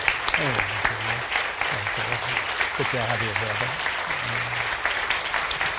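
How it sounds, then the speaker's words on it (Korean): A standing church congregation at an evening missions conference applauds warmly and steadily to welcome a speaker, while a voice talks over the clapping. "기립하셔서 뜨거운 박수로 맞아주시기 바랍니다"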